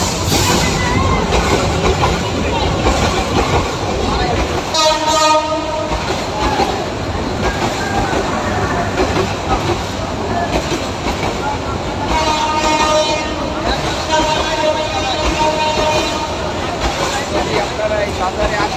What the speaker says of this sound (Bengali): আবার ট্রেন